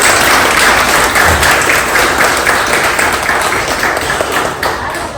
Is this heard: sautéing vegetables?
no